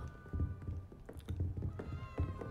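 A house cat meows a few times, short close calls mixed with light thumps and taps, with a video game's music and effects running underneath.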